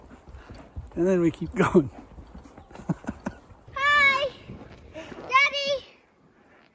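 Horse hooves clip-clop as the horse steps and hops up over steps on a trail ride, the beats mixed under close conversation and a voice.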